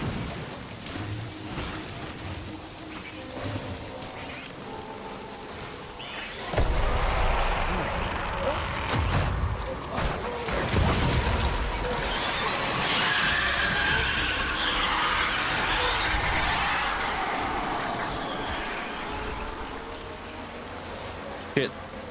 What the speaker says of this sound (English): I'm putting my bike in a wheelie, by the way, so I can go up this stuff